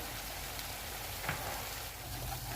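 Pizza sauce of chili, salt, red chili powder, crushed red pepper, sugar and oregano bubbles and sizzles steadily in a pan on the stove as it thickens, a soft, even hiss with no talking.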